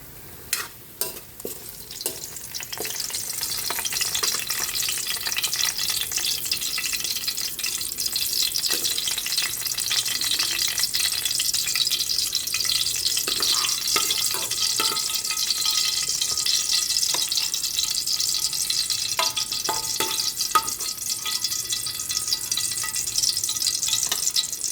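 Sliced banana (saging) frying in oil in a pan, a steady close sizzle with occasional stirring clicks and scrapes, no talk.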